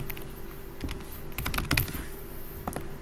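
A name is typed on a computer keyboard, with close, quick clusters of key clicks in an irregular rhythm over a steady low background hum.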